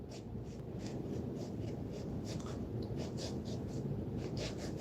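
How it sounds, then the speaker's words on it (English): Knife slicing through an apple being prepared for an apple crisp pie, a steady rough scraping and rubbing texture with repeated soft strokes, close and continuous, with no talking. "Cutting that apple like that"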